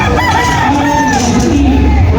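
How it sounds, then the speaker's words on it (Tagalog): Gamecock roosters, mostly Kelso, crowing loudly and close at a busy fiesta sale, long drawn-out calls overlapping amid a dense background of clucking and crowd noise. "Ito po yung mga manok nila"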